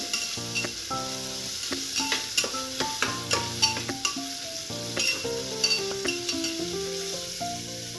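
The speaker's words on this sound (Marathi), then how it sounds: "आपला कांदा छान भाजायला लागलाय।" Chopped onions sizzle steadily in a hot pan while being stirred for a spicy mutton curry, a soft continuous frying hiss running under louder background music.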